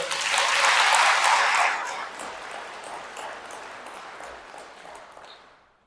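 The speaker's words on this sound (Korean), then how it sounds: "박수 한번 쳐주세요" An audience claps in a Catholic parish church in Daejeon, a dense burst of applause that swells at once, holds for a couple of seconds, then thins and fades out across the reverberant hall.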